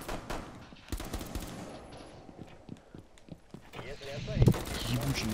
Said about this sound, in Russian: Я сейчас в монтажника три обоймы всадил, он не сдох.